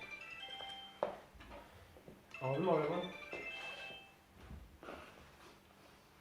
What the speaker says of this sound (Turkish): Aa bir dakika telefonu çalıyor.